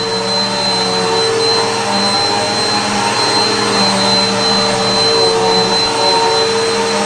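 A 1240-watt Bissell vacuum cleaner runs on carpet with a loud, constant whining roar and a steady high tone, its suction droning without pause and with no voices over it.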